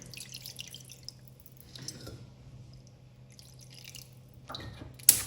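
Cold tap water poured into a cooking pot over pig trotters, a soft continuous splashing trickle with a few brief surges and a sharp clunk at the end, close and fairly quiet.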